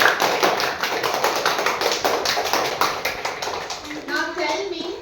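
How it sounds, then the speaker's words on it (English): Grade three schoolchildren clapping for a classmate during a classroom lesson: a quick run of close, rhythmic hand claps that thins out toward the end as a voice comes in. "Clap for Pramit."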